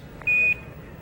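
A single steady electronic beep, an Apollo 11 1202 program alarm during the lunar landing, sounds clearly for about a quarter second against faint radio hiss and background noise.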